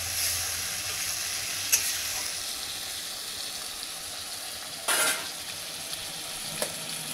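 Cumin and turmeric powder with chillies frying in a pan for a fish curry, a steady close sizzle with a few sharper spits and crackles, alone without talk.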